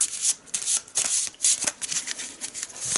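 A deck of green research-encounter cards from the Eldritch Horror board game is shuffled by hand, giving quick bursts of crisp riffling and rubbing at close range, with no voices.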